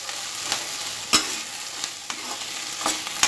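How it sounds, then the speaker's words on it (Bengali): Drumstick flowers being stirred as they fry in a pan, a soft steady sizzle broken by several sharp scraping clacks of the spoon against the pan, close and fairly quiet with no voices. "ভালোভাবে মিশিয়ে নেব।"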